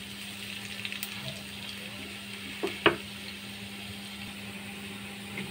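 Red amaranth leaf fritters fry gently in oil over a low flame, a soft steady sizzle with a few faint clinks and one brief louder knock midway.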